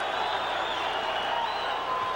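A boxing crowd at a 1980s Sugar Ray Leonard bout roars and cheers in a steady, dense wash of noise, with scattered applause and no clear pauses.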